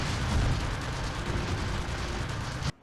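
Tank missile fire aimed at the player in the GI Joe: Rise of the Cobra PS2 game, a dense, continuous roar of explosions and gunfire that holds steadily loud for nearly three seconds before cutting off abruptly.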